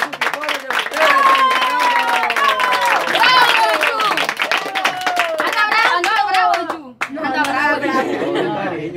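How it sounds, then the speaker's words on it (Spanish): Lively clapping from a small group at a casual home gathering welcoming friends, with excited voices, shouts and chatter mixed in throughout and a brief dip near the end before the clapping and cheering pick up again. "y un aplauso para ellos y para todos los nuestros suscriptores de ustedes"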